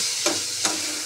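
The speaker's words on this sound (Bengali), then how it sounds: "এবার ফুলকপি আলুটা আমি ভালোভাবে একটু ভেজে নিই" Cauliflower and potato being fried in a pan give a steady, close sizzle, with two short bursts of stirring or scraping rising above the frying hiss.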